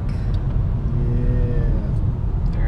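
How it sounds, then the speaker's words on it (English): Steady low rumble of Los Angeles road traffic heard from inside a moving car, a continuous engine and tire drone with faint tonal whines rising over it, loud and close throughout. "Los Angeles traffic."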